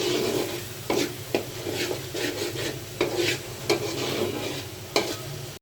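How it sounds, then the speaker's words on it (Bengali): Spice masala fries and is stirred in a pan for a snakehead fish and bean dish, making a dense, even sizzle with repeated sharp scraping strokes of a spatula against the pan; no talking. "এখন মশলাটা আমি ভালোভাবে কষিয়ে নিব"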